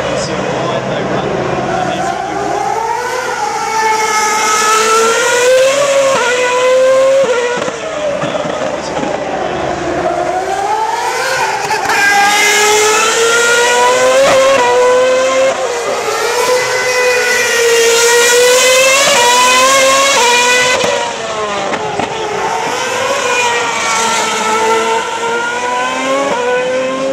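Formula 1 race cars at the Singapore Night Grand Prix, loud high-pitched engines rising and falling through gear changes as cars pass one after another, with race commentary talking over them throughout.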